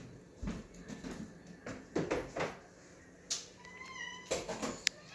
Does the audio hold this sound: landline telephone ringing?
no